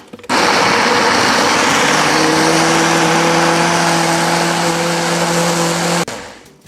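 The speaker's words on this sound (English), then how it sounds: "we're going to blend it until it's nice and smooth" A blender purees plum tomatoes, onion, garlic and jalapeno into salsa roja, its motor running loud and steady with a high whine for about six seconds before it cuts off abruptly.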